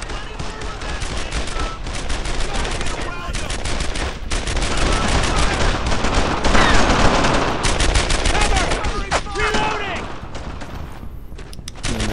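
Rapid automatic gunfire from the WWII shooter Brothers In Arms: Earned In Blood, loud dense bursts and sharp single shots crowding together, with a voice talking over the fire.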